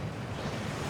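A waterfall in the video game Hogwarts Legacy sounds as a dense, continuous roaring rush of falling water, loud and steady throughout, with no voices.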